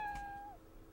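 A single short cat meow from the dating-sim adventure game Full House Kiss, a clear tonal cry that slides down at the end, heard alone against faint background hum.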